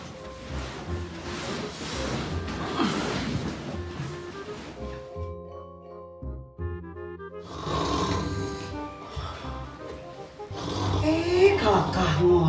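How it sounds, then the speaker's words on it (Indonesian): A man snores loudly in a Sundanese comedy sketch, giving long rasping, rumbling breaths that come and go over several seconds, with a quieter tonal stretch in the middle and other background sound around them. "Kalakah ngorok, Pak?"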